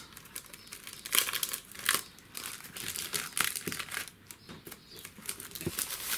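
Delicate tissue paper crinkles and rustles during the unboxing of a flower-themed craft box, with irregular close crackles and soft handling noises and no talk.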